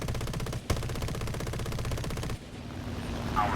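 Sustained rapid machine gun fire from an aircraft gunner aboard a Havoc Mk I in War Thunder, loud and continuous, with a brief break before the bursts resume and then give way to a lower engine drone.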